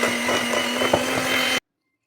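An electric hand beater whirs steadily through red velvet cookie dough, a loud continuous motor drone with a faint rattle that cuts off abruptly near the end.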